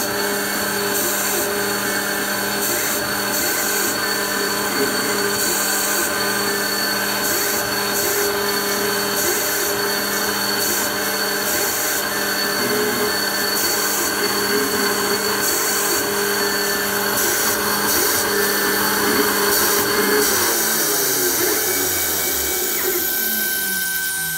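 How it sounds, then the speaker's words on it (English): A Vanguard 1000 engraving machine runs with its vacuum nozzle on, giving a loud, continuous whine and hum of motor and suction with a steady grinding buzz, and the pitch shifts near the end. "Turn on the vacuum. And it does the engraving."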